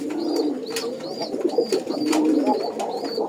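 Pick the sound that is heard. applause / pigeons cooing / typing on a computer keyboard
pigeons cooing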